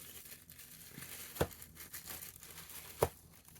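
Triangular chalk of the Hancock, London brand is unwrapped from its paper, giving soft, quiet crinkling with two sharper paper crackles a moment apart, close by and otherwise hushed.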